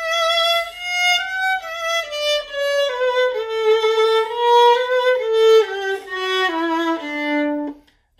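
A solo string line plays a passage from Mozart's Symphony No. 29 in A with its semiquaver grace notes taken long as appoggiaturas, a smooth, clear melody stepping gradually downward over about eight seconds with no talking.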